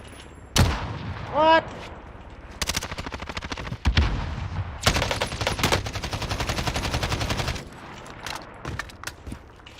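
Rapid gunfire in Call of Duty Warzone, with single shots, a sharp burst and a long sustained automatic spray, mixed with game effects while a voice speaks briefly.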